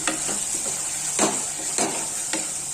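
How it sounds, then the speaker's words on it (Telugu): Young tamarind leaves with salt are stirred in a sizzling pan, a steady frying hiss broken by several scraping strokes of a spoon against the pan, close and clear with no talking. "కొద్దిగా ఉప్పు వేసి మళ్ళీ కలుపుకోవాలి"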